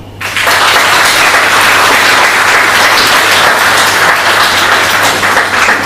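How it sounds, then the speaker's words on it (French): A crowd at a political rally in Réunion breaks into loud, sustained applause, a dense roar of many hands clapping that starts abruptly and continues at full strength to the end. "On peut vous applaudir."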